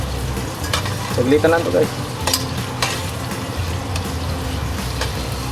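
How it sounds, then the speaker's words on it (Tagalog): Ingredients sizzle steadily in a pan for homemade caldereta, a continuous close frying hiss with stirring scrapes, and a voice speaks briefly over it. "Ipiprituin natin."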